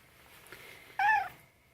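A cat gives one short, clear meow close by, rising out of a quiet room.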